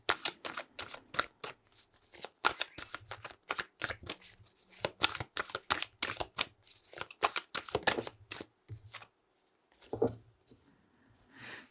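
Tarot cards shuffled by hand in long runs of quick, crisp riffling flicks, close and fairly loud, with a few pauses and a final card drawn near the end.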